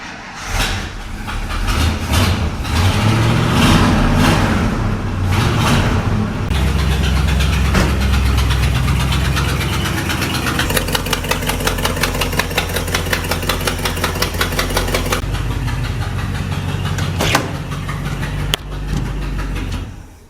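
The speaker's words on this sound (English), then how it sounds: "My next plan is to try to get a little heat into these manifolds. And I could probably use the engine for that." An International 1110 truck engine cranks and fires, then settles into a steady idle with a rhythmic ticking knock, loud and close, run to warm up the exhaust manifolds.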